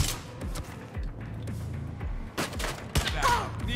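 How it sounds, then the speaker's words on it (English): Video game gunfire from Gemini: Heroes Reborn comes as repeated bursts of shots with sharp impacts and thuds, loud and close throughout. "Open fire."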